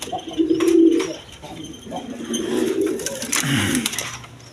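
Pigeons kept as a breeding pair with chicks coo in low, rolling murmurs, close by, over a faint background hum of surroundings.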